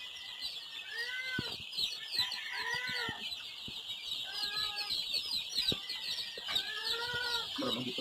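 Hens cluck and chicks peep in a farm coop, a busy cluster of soft repeated clucks and calls over a constant high insect-like chirring, moderately distant and fairly quiet throughout.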